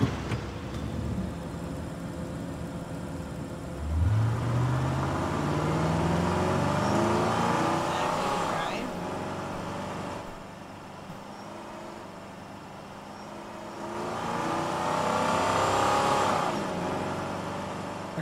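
A loud car engine in the video game Life is Strange 2, revving up with a rising whine, then surging and fading twice like passing acceleration, close and prominent with no speech.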